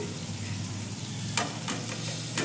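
Green chillies fry in a pan with a steady close sizzle and crackle, a few sharper spits and stirring scrapes cutting through toward the end.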